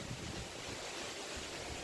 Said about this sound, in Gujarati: પવન આવે છે ભાઈ નેક્સ્ટ લેવલ